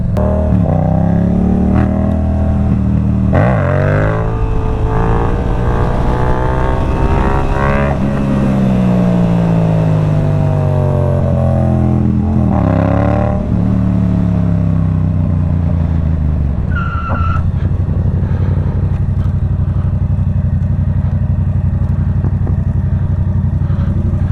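A Yamaha MT-07 motorcycle's exhaust revs up and down loudly and close by during wheelies on an empty road, with repeated rising and falling engine sweeps before it settles to a lower rumble.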